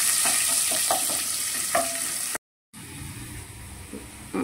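Ivy gourd frying in a pan, a bright continuous sizzle with stirring scrapes, a brief gap, then a lower, quieter sizzle resumes.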